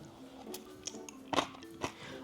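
Crunchy bites into a pistachio-spread Christmas treat, a few sharp crackling crunches spaced across a short stretch with quiet chewing between them, close up and with no talking.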